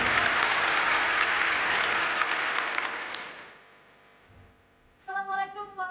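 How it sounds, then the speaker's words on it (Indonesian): Audience applause at a televised Indonesian media event on election coverage, a dense wash of clapping that fades out after about three seconds, followed by a brief tonal music sting. "Berikan tepuk tangannya."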